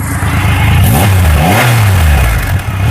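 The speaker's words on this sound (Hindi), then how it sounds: "और अगर अभी आप एग्जॉस्ट पे रखोगे तो आपको एग्जॉस्ट साउंड भी दे दूंगा।" A Triumph Rocket 3 motorcycle's exhaust is heard close up, rumbling then revving up in a couple of rising throttle swells before settling back, loud and alone.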